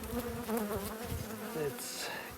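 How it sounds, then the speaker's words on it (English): A honeybee hive opened on a cloudy, cold day for winter insulation, the disturbed bees giving off a dense, continuous buzzing close by, with individual bees droning past. "It's cloudy and cold, so bees aren't happy to be disturbed"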